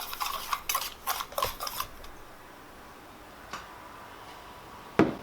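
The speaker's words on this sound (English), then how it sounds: "And put a little bit of nutmeg in there. And go ahead and whisk that up together." Whisking an egg mixture with cinnamon and nutmeg for French toast in a B&B kitchen, a quick burst of metallic clicking strokes against a bowl for about two seconds, then near quiet with a couple of isolated clinks.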